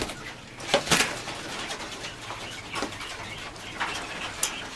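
Coturnix quail kept as breeding birds, calling with a few short, bright chirps and a brief flutter, fairly close and otherwise quiet, with no one speaking.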